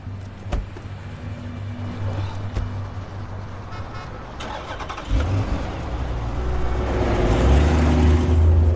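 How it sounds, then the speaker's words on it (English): A car engine starts in a dramatic film scene: a low steady rumble, then the engine catches and settles into a louder, fuller idle that builds toward the end. "Start the car, get the heat going."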